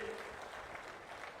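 Audience clapping at an outdoor political public meeting in Achanta, a steady wash of hands through the whole short moment with no voices on top.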